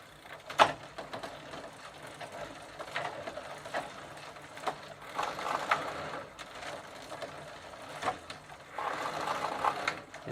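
A Sturmey Archer bicycle hub shifted to its second gear position whirs and ticks with a fast mechanical ratcheting clatter, faint and steady with occasional louder clicks.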